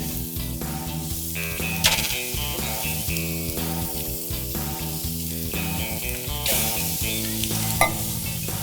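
Chicken hits a hot grill and starts to sizzle, a steady hiss with scraping and clicking from utensils over continuous background music, with no talking.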